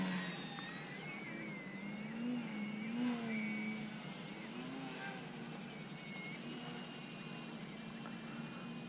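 An E-flite Eratix RC plane motor whines in a hover, a steady buzzing drone whose pitch wavers up and down as the throttle shifts, heard from a moderate distance without talk.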